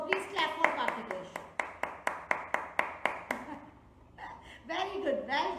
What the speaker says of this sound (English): All of you, please clap for Kartikesh